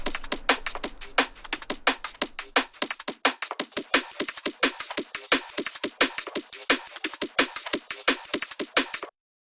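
Fast drum and bass break run through a Soundtoys Filter Freak 2 filter effect, dense rapid hits in a steady driving pattern, loud and close, stopping abruptly at the end.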